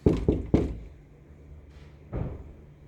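Three quick knocks on a room door in a rented apartment, close and sharp, followed by a quiet pause and a softer thud.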